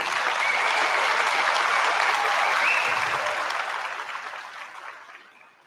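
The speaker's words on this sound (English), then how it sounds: "please give another round of applause for our new initiates." An audience in a school gym applauds new National Honor Society initiates at an induction ceremony, giving dense, steady clapping for several seconds that gradually fades out.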